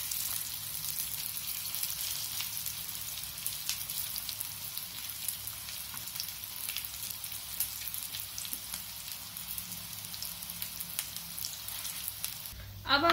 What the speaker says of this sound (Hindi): अब हम इस पे हमारे कटलेट फ्राई करने के लिए डाल देंगे।